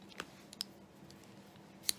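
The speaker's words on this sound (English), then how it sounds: "now what I'm going to do is grab some just plain scissors" Small plain scissors cut shrink plastic with a few faint, separate snips and clicks in a quiet room.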